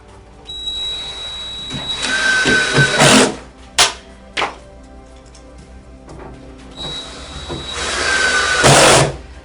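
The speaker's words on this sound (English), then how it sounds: "And we can install the shroud screws." A power driver runs shroud screws into a unit in two bursts of whirring, each rising loudly for a couple of seconds, separated by quieter clicks and handling knocks.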